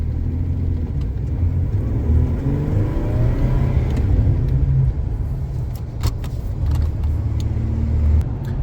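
A supercharged truck accelerates hard as boost kicks in, giving a steady, close, rumbling engine roar with rising whir and no talking.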